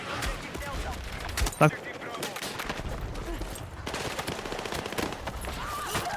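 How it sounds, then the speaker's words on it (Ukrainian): Battlefield 6 gunfire crackles in rapid bursts alongside a loud single shotgun shot, mixed with steady game noise and people talking over it. "дробовик на дальню стріляють"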